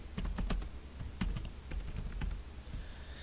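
Quick, light keystrokes on a computer keyboard while entering a name into a box, a close, uneven patter of clicks lasting a few seconds with no talking.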